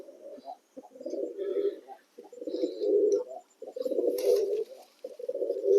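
Pigeons coo repeatedly in low, throaty rolling phrases close by, broken by short pauses, with a brief higher rustle or flutter partway through; pigeons of good quality with attractive markings, at a market setting.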